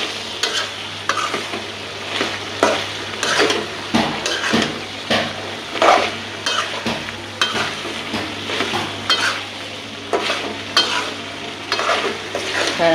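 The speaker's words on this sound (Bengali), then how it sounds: "সুন্দর করে টমাটোটা দিয়ে কষাইয়া পরে জলটা দিয়ে দেব" Tomato and vegetables sauté in a hot pan for a rui fish, bean and potato curry, with a steady sizzle broken by rhythmic spatula scrapes and knocks against the pan, close and loud, with no talking.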